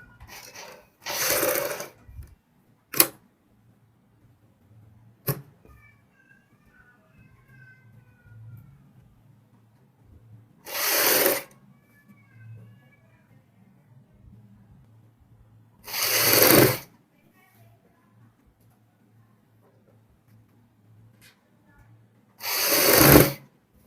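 A sewing machine stitching a collar onto a kurti runs in four short bursts of rapid stitching, each lasting about a second, separated by long pauses filled with a faint low hum and a few light clicks.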